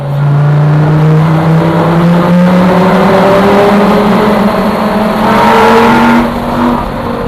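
A Lamborghini Gallardo supercar driving in Dubai, its engine a loud, close, continuous drone whose pitch climbs steadily, then eases and rises again, heard from inside the car without talk.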